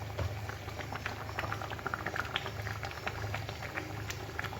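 Dal lentils boiling in a pot, a steady close bubbling and popping patter that carries on evenly without a break.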